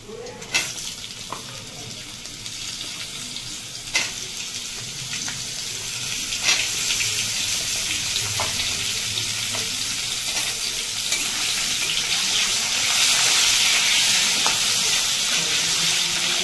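Papaya pieces fry in a hot pan with steady, close sizzling and crackling, while a spatula stirs and scrapes now and then, the hiss growing denser toward the end.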